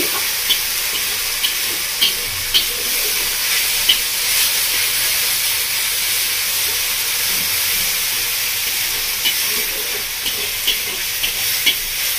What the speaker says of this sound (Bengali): আদা রসুন বাটা দিয়ে ভালো করে কষিয়ে নেব।